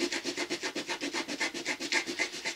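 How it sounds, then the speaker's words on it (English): Rhythmic rubbing of sandpaper by hand on a segmented wooden bowl, quick even back-and-forth strokes, close up and steady, about ten passes with no talking. "Now you can see I'm into the hand sanding now."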